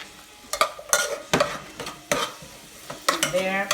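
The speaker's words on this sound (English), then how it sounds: "we continue to cook that. Sizzling." Food sizzles in a hot pan while a utensil stirs and scrapes at it in irregular clacks, close up, with no one speaking.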